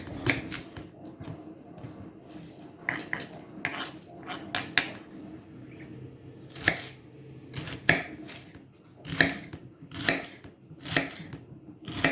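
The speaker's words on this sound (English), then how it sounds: "Cut the top off and the bottom of the courgette." Knife chopping through courgette ends on a cutting board, a run of sharp, distinct cuts with knocks of board and utensils, fairly close and no talking.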